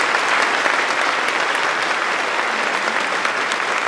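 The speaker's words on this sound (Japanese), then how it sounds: "今一度盛大な拍手をお願いいたします" Sustained applause from a large audience at a music festival concert, a dense, even clatter of clapping that holds steady throughout.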